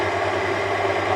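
A car engine idles steadily during a fuel additive demonstration, a continuous low rumbling hum with no speech over it.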